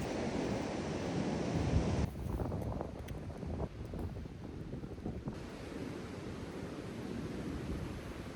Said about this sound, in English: The waves are not that high